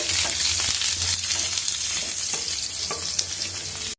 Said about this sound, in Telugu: దాంతోపాటు కొంచెము ఆవాలు జీలకర్ర వేయించుకున్నాము